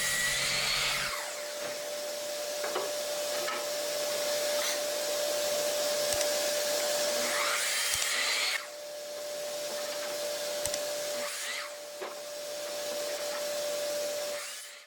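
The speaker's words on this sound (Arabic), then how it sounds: "فخلينا على المنشار الرأسي الاول نظبط الاطوال بتاعتنا" A vertical saw runs with a steady whine as it cuts wooden pieces to length, a continuous machine drone with a few faint knocks and slight shifts in load across the cut.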